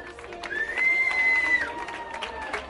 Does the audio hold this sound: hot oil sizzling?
no